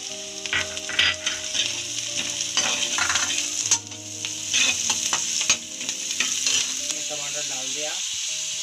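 Chilies sizzle and crackle in hot oil in a pan for masala Maggi, a steady close frying hiss broken by scraping stirs and the clink of a utensil against the pan.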